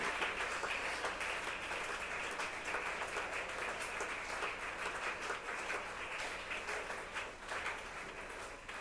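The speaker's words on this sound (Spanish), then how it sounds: "Dele un fuerte aplauso y alabanza al que vive por los siglos de los siglos." Sustained applause from a large church congregation, dense and even, holding steady and slightly fading toward the end.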